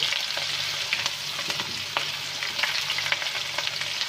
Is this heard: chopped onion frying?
yes